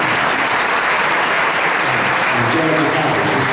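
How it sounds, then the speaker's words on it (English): Audience applause fills a school board meeting as the Learning Academy students are honored, a dense, steady wash of many hands clapping throughout, loud and close, with some voices mixed in. "if you'd like to give a round of applause, all the students in the Learning Academy"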